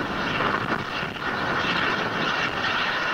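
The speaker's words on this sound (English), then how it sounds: "The H2A is now flying above the Pacific Ocean to the east。" An H2A rocket climbing over the Pacific a minute after launch, heard as a continuous broad distant roar that holds steady and fills the air.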